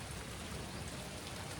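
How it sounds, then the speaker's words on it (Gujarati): Steady rain falling outdoors, a dense even hiss that stays constant from start to finish, quiet and with no voices. "વરસાદ મસ્ત આવી ગયો"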